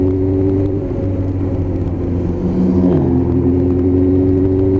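A Suzuki GSXR1000 Movistar sport motorcycle engine idles steadily with a loud, droning hum, its pitch sliding down briefly as the revs settle, close and continuous with no talking.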